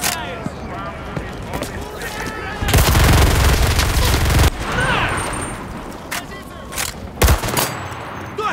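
Gunfire rings out in the Enlisted game's Battle of Stalingrad on Gogol Street East: a dense, loud burst of rapid automatic fire runs for a couple of seconds, followed by scattered single shots and echoing battle noise, with voices talking throughout.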